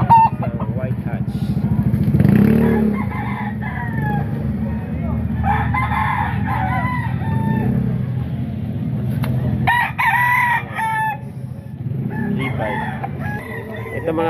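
White Hatch gamefowl rooster, about seven months old, crowing at a busy market, one loud crow near the start amid crowd chatter, motorcycle and traffic noise, with people talking throughout.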